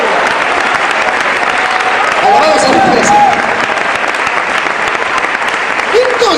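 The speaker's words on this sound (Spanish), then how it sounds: "le damos un fuerte aplauso a la alabanza" A church congregation applauds loudly and continuously after drums and worship music, a dense wash of clapping with a voice speaking over it partway through.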